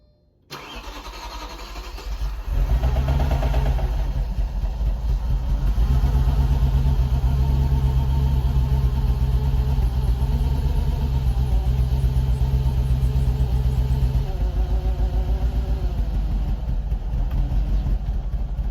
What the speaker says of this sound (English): I'm gonna go ahead and give it a little cold start and see how she sounds on this nice Saturday morning.